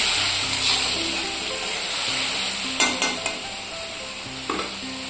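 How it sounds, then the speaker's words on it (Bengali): Spice paste frying in oil in a pan with a constant bright sizzle, while a few sharp clacks of a spoon stirring against the pan sound near the middle and end. "এবারে আমি আগের থেকে বানিয়ে রাখা মশলা পেস্টটা দিয়ে দিলাম এবার ভালোভাবে কষিয়ে নেব"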